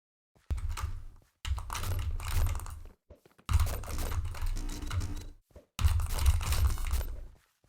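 Fingers type on a computer keyboard in four rapid, clattering bursts of keystrokes separated by short silent pauses, close and clear, during a Minecraft Hypixel session.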